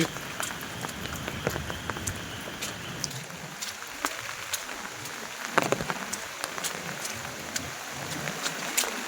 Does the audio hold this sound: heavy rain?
yes